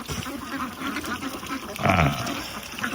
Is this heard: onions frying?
no